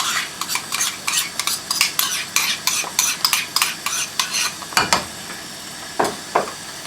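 A spoon stirs tomato masala with yogurt, garam masala, red chilli powder and salt in a hot pan over high flame, making a rapid run of close metallic scrapes and clinks over a low sizzle.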